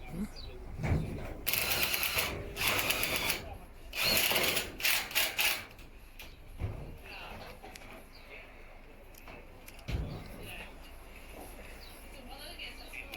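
A power drill drives screws into a garage roof during a build, several short close whirring bursts separated by pauses, with faint background noise and the odd knock.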